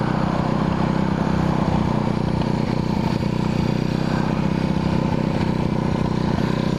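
A 1981 Yamaha XS400 Heritage motorcycle engine drones steadily on a test ride, an even, loud, close buzzing hum with no break and no talking.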